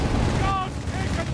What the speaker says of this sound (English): Strafing run does a little bit of damage there